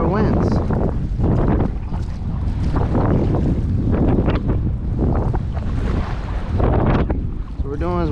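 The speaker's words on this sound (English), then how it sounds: "This is windy as hell. This has got to be at least 20 mile an hour winds." Heavy wind of around 20 mph blows across an open flat while kayak fishing at Boca Grande, loud gusts pummelling the microphone in surging bursts with water sloshing beneath.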